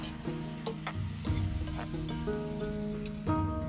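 Green mung bean curry with spices sizzles and fries in a pan while a spoon stirs it, giving a steady crackling hiss with repeated scraping strokes and no talking.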